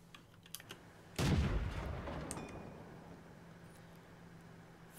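Tank gun firing in World of Tanks from a StuG IV, one sudden loud boom with a low rumbling tail that fades over a couple of seconds, with faint clicks before it.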